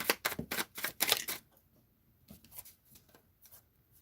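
A deck of mystery game cards being shuffled and handled: a quick run of sharp papery riffling and snapping up front, followed by softer scattered card taps and slides.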